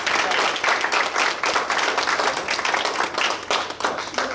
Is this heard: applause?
yes